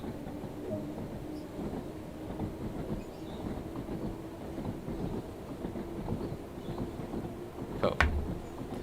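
Steady rumbling of a steam train in motion in Train Sim World 2 on the Isle of Wight steam railway, with rhythmic clattering over the rails, continuous and fairly close, with a brief sharp clank near the end.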